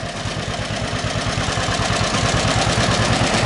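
A restored John Deere B tractor engine runs close and loud, its steady low rhythmic putter continuing without a break.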